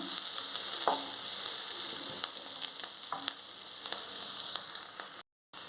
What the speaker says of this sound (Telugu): ఆనియన్స్ వేగుతున్నాయి నేను ఒక్క స్పూన్ ఆయిల్లోనే ఆనియన్స్ వేయించుకుంటున్నాను